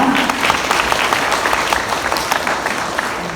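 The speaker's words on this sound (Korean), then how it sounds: "해주신 두 분께 다시 한번 박수 부탁드립니다" Parents and students at a Korean high school admissions information session for incoming freshmen give a loud round of applause, a dense, even wash of clapping sustained throughout with no speech on top.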